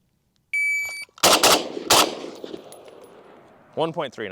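An FN FNC rifle fires at steel targets in a short burst of loud, close shots around the middle, preceded by a steady electronic timer beep and followed by a voice speaking near the end.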